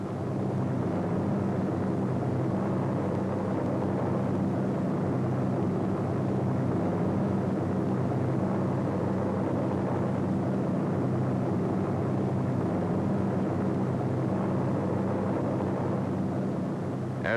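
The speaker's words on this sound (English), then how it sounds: "C-47s, which already have dropped their gliders, pass on their way back to England." C-47 transport planes pass overhead on their return flight to England during the Normandy invasion, their engines making a continuous, even drone throughout with no talking.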